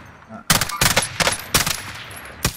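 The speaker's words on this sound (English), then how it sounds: "Shooting at us now." Bursts of automatic gunfire in a Warzone match, four or five loud rapid volleys separated by short pauses, close and sharp.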